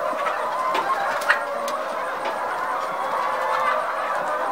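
Laying hens bred in Benin cluck on a farm, a steady chorus of overlapping bird calls with a brief louder cluck near the middle, and no talk.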